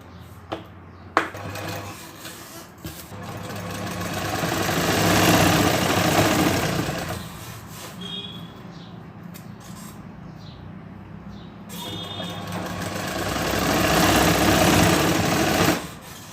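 A sewing machine runs in two long bursts stitching a bridal lehenga, its motor whirring up to a loud steady drone, easing off briefly, then surging again before stopping, with a couple of sharp clicks between.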